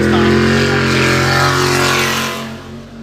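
A Class 1 Truggy off-road race truck from Moore, Montana running at the Wild West 100 in Columbus, Montana, loud droning engine with strong steady harmonics, easing slightly toward the end.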